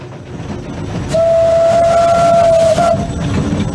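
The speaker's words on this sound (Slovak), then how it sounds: "Letnú sezónu začali na Oravskej lesnej železnici nostalgicky jazdou pôvodnej, takmer storočnej lokomotívy Gondkulák." A nearly century-old steam locomotive, the Gondkulák, on the Orava forest railway, sounding a single sustained whistle of about two seconds over rumbling running noise, loud and close.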